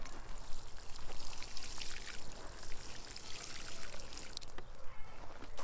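Water poured into a planting hole in loose garden soil, a soft continuous splashing and trickling stream that stays fairly quiet and even from start to finish.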